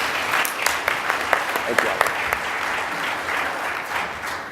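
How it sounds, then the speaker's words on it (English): An audience at an ice cream distributors' and vendors' association keynote breaks into loud, sustained applause, a dense clatter of clapping with a few sharper claps, while a speaker briefly says a word over it. "big round of applause for them"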